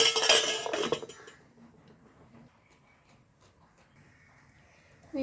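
A lid goes onto a bowl of mixed food, making a brief, close clatter of metal and ceramic, followed by near silence.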